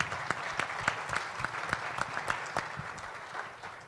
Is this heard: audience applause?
yes